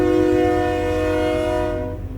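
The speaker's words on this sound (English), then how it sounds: "Sorry, live right across from train tracks." A train passes on tracks close by, its horn blaring in a loud sustained tone that holds steady and then fades toward the end, with low rumble beneath.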